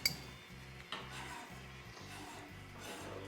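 Metal spoon stirring chicken marsala sauce with capers in a pan, a faint clink at the start then a low repeated scraping rhythm over quiet sizzling, no talk.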